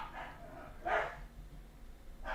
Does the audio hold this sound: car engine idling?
no